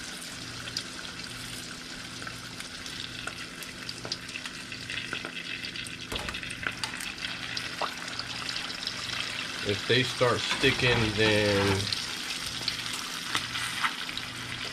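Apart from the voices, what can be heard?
spring rolls frying in hot oil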